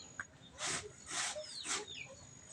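Chickens and turkeys on a farm, fed while waiting for their food, give three loud bursts of clucking and squawking close by, with short high calls between them.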